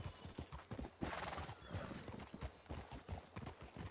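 Horse hooves clip-clop in a quick, even rhythm in a ranch role-play video game, with a whinny from the horse and voices talking alongside.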